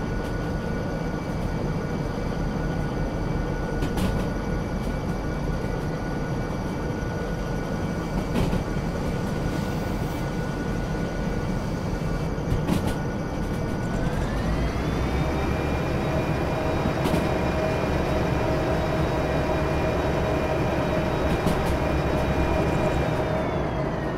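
Long freight train hauling a load of steel rails in the Derail Valley simulator, a steady low rumble and drone of rolling wagons throughout, with a tonal whine that rises in pitch partway through as speed changes.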